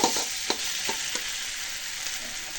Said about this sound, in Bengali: আর এই যে ভাজে ভাজে এইভাবে সিমটাকে চটকায় নিব